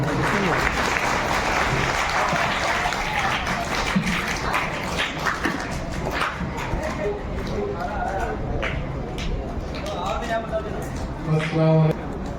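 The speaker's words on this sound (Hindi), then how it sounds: "भाई सनी पटेल साहब के साथ जरा ताली बज जाए" An audience at an indoor community gathering claps, with applause rising and falling beneath a speaker's talk and some scattered taps and background voices.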